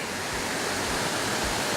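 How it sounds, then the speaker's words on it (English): Steady rushing water from a waterfall or flowing stream, a continuous broadband roar heard alone and fairly close, with no voices. "Matt takes 3-year-old Nolan to places with water so Nolan can hear and feel them"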